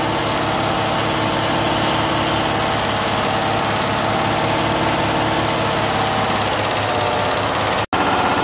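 A 2015 GM truck's 5.3-liter V8 idles steadily with the mass airflow sensor unplugged, giving a continuous close, loud low rumble and mechanical vibration, uninterrupted apart from a brief dropout near the end.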